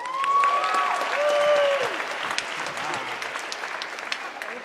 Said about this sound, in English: How about a round of applause for Natalie?